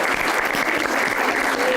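A talk-show studio audience claps, a brief, steady burst of dense applause from many hands, loud and even throughout.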